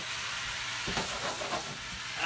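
Hot oil sizzling in a pan as noodles fry for a northern pike stir fry, a steady close hiss with faint stirring clatter running throughout.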